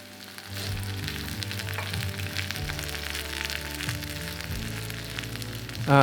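Steady crackling sizzle of a Korean zucchini pancake (hobak jeon) frying in a hot pan, continuous and fairly loud throughout with no talking.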